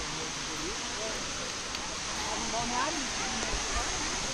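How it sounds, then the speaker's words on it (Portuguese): Waterfall at Cachoeira da Mariquinha in Ponta Grossa, a constant broad rushing roar filling the scene, with people talking nearby over the falling water. "Nossa, cachoeira da Mariquinha."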